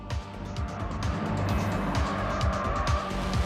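A Hacker race car, set up for strong oversteer, roars at high revs as its rear end slides out, with repeated engine surges and tire noise close by and loud throughout.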